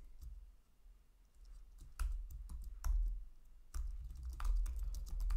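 Typing Rust code on a computer keyboard, irregular bursts of close key clicks and clacks with short pauses between, fairly quiet, no voices.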